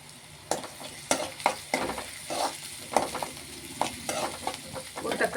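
Green chillies sautéed in a pan for mutton thakkadi, a run of scrapes and stirring strokes over a steady low sizzle, close and fairly quiet, with no talk.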